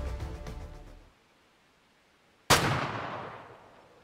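A rifle shot at a giant bull moose in the hunting game Way Of The Hunter: after quiet ambience, a single loud, sharp crack rings out and trails off in a long, rolling echo.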